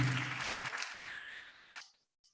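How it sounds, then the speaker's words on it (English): Crowd applause at a university convocation fades out, a dense patter of many hands clapping that thins and dies away, ending with a couple of faint stray claps. "Another round of applause for the Pro-Chancellor and Chairman of the Governing Council."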